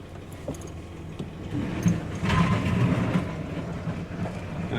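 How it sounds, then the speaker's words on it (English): Dodge Dakota pickup with a 3.7 engine dragging debris underneath as it rolls, a rough rumbling scrape with metallic clanks and rattles that grows louder midway. "I think I'm dragging stuff behind the truck."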